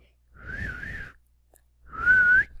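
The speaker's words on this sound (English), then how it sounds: "If you lived in a city in Mexico, you might have heard the whistle" A Mexican city milkman's whistle from a motorcycle: two separate whistled tones, each lasting under a second with a gap between. The first wavers up and down, the second holds steady, clear and fairly close.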